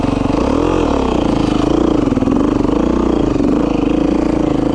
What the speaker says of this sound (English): Rev your bike up, go zit, zit.